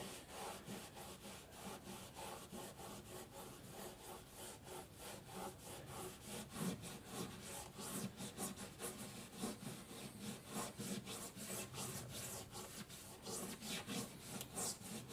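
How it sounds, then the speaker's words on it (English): Steady rhythmic rubbing of a clean white sock on an acoustic guitar's finish to lift adhesive residue, quiet and close with regular back-and-forth strokes. "We're going to try to get that residue off by rubbing it here gently."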